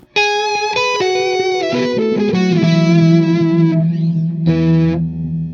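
Electric guitar notes ring out through JHS pedals, with undistorted echoing delay repeats and a pitch-shifted layer, played alone at moderate loudness.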